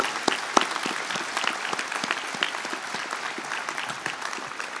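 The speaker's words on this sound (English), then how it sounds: "Let's give them a big round of applause." Audience applause for graduates at a Wharton Executive MBA commencement in Philadelphia, a dense, steady wash of many hands clapping at moderate level throughout, with no talk over it.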